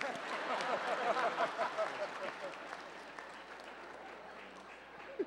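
Audience applause at a film Q&A, moderate and somewhat distant, swelling briefly then settling into a steady patter that fades, with a few voices mixed in.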